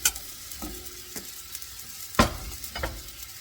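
Bite-sized pieces of stew beef browning in a pot give off a steady sizzle, with a few sharp scraping or stirring knocks. The clearest knock falls near the middle of the clip, and no one speaks.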